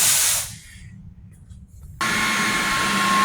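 A floor cleaner vacuum with a spinning brush and water release runs with a loud broadband whoosh, drops to a quieter hum for a moment, then surges back to a steady roar with a thin whine.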